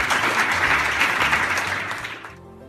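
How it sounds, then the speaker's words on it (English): Dense audience applause fills a school hall in Delhi, steady and loud, then thins out and fades toward the end. "I think we should give them a round of applause"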